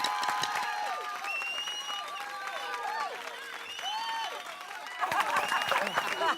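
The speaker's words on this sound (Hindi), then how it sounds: "सब लोग उधर ताली बजा रहे हैं।" In a Hindi sitcom scene, a group of people claps scattered, lively applause for a poem, with overlapping voices and exclamations running through it and a burst of louder clapping near the end.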